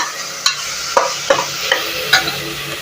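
Onion and tomato fry in a pan with turmeric while a spoon stirs them, giving a soft continuous sizzle broken by five or six sharp scraping strokes at an uneven rhythm, close and clear with no talk.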